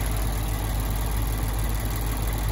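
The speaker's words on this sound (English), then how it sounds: "this is the 5-liter V8. Just that roar sounds so good." Lexus IS 500's 5-liter V8 idling under an open hood, a steady, fairly loud low rumble with a constant throb and no voices over it.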